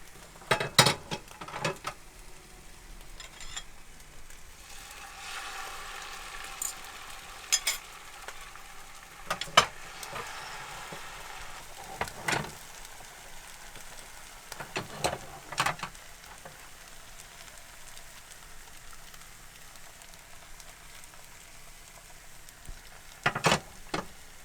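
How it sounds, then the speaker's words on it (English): Eggs cooking in a touch of oil in a pan for a Mexican omelette, a soft sizzle with repeated scraping and stirring clatters of a utensil against the pan, close and fairly quiet. "We're just gonna add a touch of oil, get our eggs going"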